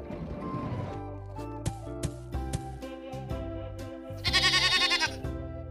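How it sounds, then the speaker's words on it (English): A goat bleats in a kids' animal game: one loud, wavering bleat rises near the end, after an opening stretch of music with plucked notes. "Where is the goat?"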